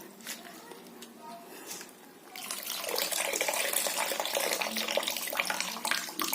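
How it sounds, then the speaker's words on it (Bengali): Tap water rushes into a container in a home kitchen, starting after a quieter moment and then pouring steadily and fairly loud up close. "তো জলটা একটু ভরে যাক"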